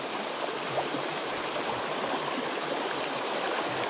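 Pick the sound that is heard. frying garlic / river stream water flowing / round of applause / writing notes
river stream water flowing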